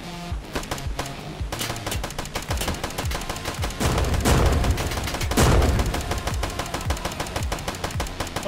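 Rapid automatic gunfire from a jet ski fight in Midnight Fight Express, loud, dense bursts of shots that swell into heavier booms midway, continuing alone without talk.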